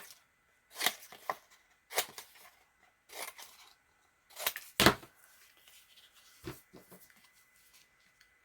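Antique cook book repair material is rough-cut by hand in a quiet room, with about seven soft, separate cutting crunches that come at irregular intervals and have short gaps between them.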